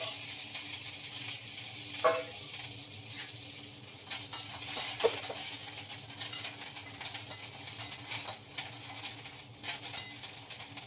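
Curry leaves frying in a little hot oil for a bitter gourd curry, a soft steady crackle with scattered sharp spatters and pops, close up.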